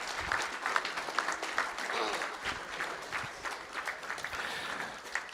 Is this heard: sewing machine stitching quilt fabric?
no